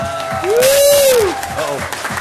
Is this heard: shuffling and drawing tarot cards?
no